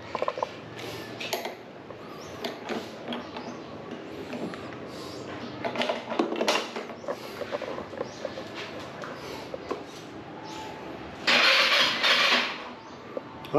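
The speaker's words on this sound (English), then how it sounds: "and the truck, I start it up." A truck engine cranks over and catches, then keeps running with a mechanical rumble and clatter, fairly close, with a louder burst of revving near the end; no talk.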